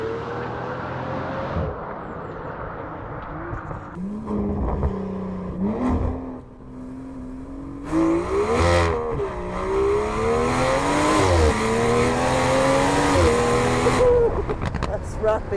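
Aston Martin V12 Speedster with a Quicksilver sports exhaust revving hard, the engine note rising and falling through several strong pulls that build to a sustained high-revving roar, loud and close.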